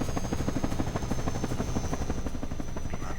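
An enemy helicopter passes overhead in a war video game, its rotor beating in a fast, steady rhythmic chop that stays loud and close throughout.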